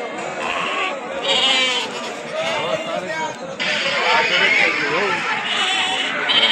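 Sheep bleat in wavering cries at a busy sheep market, including native rams and lambs, mixed with steady crowd chatter and people talking nearby.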